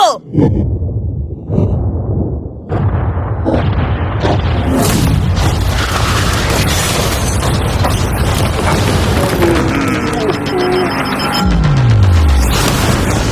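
A yacht blown up by a large explosion, a sequence of heavy booms and blasts building into a roaring, crackling burst with debris and a falling whine, loud and close, with excited voices reacting.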